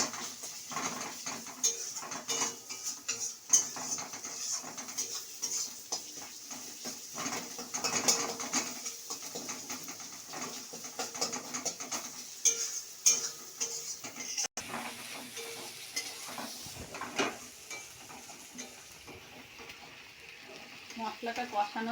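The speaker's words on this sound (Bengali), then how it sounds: "এবার ভালো করে কষিয়ে নেব" A sweetened spice masala being stirred and sautéed in a pan, with steady scraping and clinking of a utensil against metal and a soft sizzle beneath, continuing throughout at close range.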